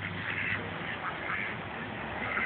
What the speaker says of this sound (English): There's a lot of ducks over here.